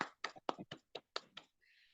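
Over a Zoom call, about seven quiet, separate hand claps come at a brisk, even pace, like one person's applause for a mentor. A faint hiss of background noise follows once the claps stop.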